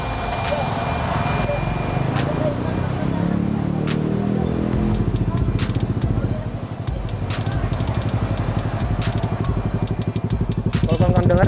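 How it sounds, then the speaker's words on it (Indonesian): A Honda Scoopy scooter with an aftermarket exhaust idles with a throaty, pulsing exhaust rumble that rises and falls slightly, with a voice briefly audible in the background. "kita dengar dulu bunyi knalpot kayak apa"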